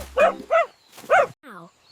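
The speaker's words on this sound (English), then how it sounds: "Now, can you tell me how dogs bark?" A dog in a children's farm-animal song gives three quick, close barks, then a short falling whine, clear and loud with nothing else over them.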